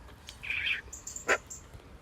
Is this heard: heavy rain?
no